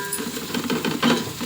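Ginger garlic paste frying in a hot pan, a short burst of crackling sizzle with light spatula scraping, close and moderately loud, no talking.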